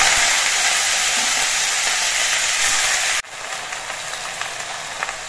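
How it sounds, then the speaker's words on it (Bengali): Taro leaves drop into hot mustard oil in a kadai, setting off a loud, close, hissing sizzle that runs steadily, then cuts sharply to a softer, fainter crackle. "সর্ষের তেলটা গরম হয়ে গেছে, এবার এর মধ্যে দিয়ে আমি কচু পাতা গুলো দিয়ে দিচ্ছি"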